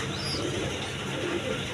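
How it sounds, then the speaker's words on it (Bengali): A pair of Indian Kagzi pigeons coo softly and steadily at close range, a low continuous murmur with faint chirps over a constant background hum. "এখানে এক পেয়ার আপনার ইন্ডিয়ান কাগজি কবুতর আছে"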